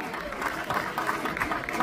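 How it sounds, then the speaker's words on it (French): Audience applause at a youth U11 football tournament trophy ceremony, a steady dense patter of clapping filling the short stretch with no break. "on peut les applaudir aussi, bravo à vous."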